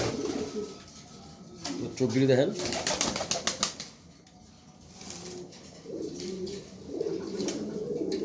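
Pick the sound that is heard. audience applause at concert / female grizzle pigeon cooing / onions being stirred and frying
female grizzle pigeon cooing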